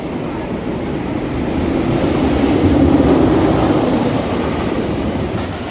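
An empty roller coaster train at Six Flags St. Louis rumbles past with a steady low roar that swells in the middle and fades slightly, continuous and fairly close.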